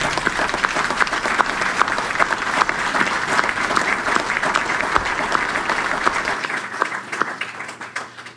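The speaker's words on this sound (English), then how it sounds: "I think it deserves a huge round of applause" Audience applause at a tribute ceremony honouring a veteran, steady dense clapping filling the room for about eight seconds before thinning slightly at the end.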